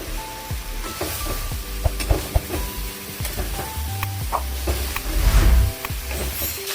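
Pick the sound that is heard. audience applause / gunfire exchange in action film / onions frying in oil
onions frying in oil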